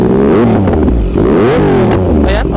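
A loud 2020 Yamaha MT-09 motorcycle engine revs up and down repeatedly at close range, its rough exhaust rising and falling in pitch.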